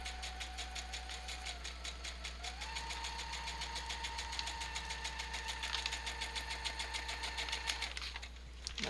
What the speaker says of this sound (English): let's just sew this doily on